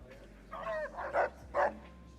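Dog in the video game Fallout: New Vegas barking a few short yips and woofs, close and clear over a low steady hum.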